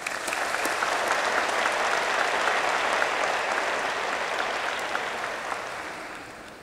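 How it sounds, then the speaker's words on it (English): University graduation ceremony audience in Vietnam applauding families and friends, a dense hall-filling round of clapping that holds steady for several seconds before slowly tapering off. "So let's give them a round of applause."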